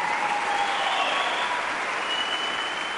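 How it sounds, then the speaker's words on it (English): An audience at a hockey awards ceremony claps for the Calgary Flames PR staff, a full, sustained wash of applause, steady and fairly loud, with a faint tonal ring lingering in the hall. "Can you give them a clap a little bit?"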